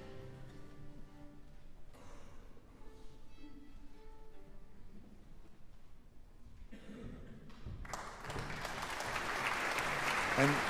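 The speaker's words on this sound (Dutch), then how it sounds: "En dit applaus is voor de Italiaanse violist die het vak leerde van zijn vader, Giuliano Carmignola." Concert applause for Italian violinist Giuliano Carmignola after a Vivaldi performance builds gradually from quiet, hall-filling clapping over lingering tonal sounds, swelling louder near the end.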